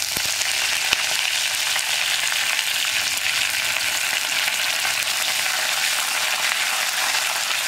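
Mustard seeds, dried chillies and curry leaves sizzle in hot oil for a Kerala muringayila cabbage thoran, a steady close crackling fry with no talk over it.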